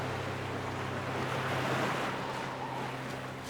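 Rough surf from a storm breaking on the rocks of the Open Bay Islands, a steady rushing wash of waves and wind with a low rumble beneath, moderately loud.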